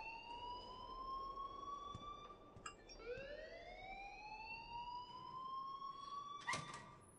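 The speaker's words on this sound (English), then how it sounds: "please turn off that alarm since that's your job" A wailing alarm in the Life Is Strange video game rises and falls in long sweeping tones, steady and moderately distant, with a few faint clicks and a brief bump near the end.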